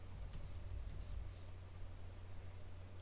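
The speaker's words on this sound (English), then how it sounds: "Typing it at my keyboard, hitting my return." Fingers type on a computer keyboard, a quiet scatter of light key clicks in a few quick bursts over a low steady hum, with no talking.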